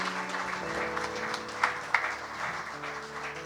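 A church congregation cheers and applauds at an Easter celebration service, a steady wash of clapping and voices that holds through the moment, with a couple of sharper accents near the middle.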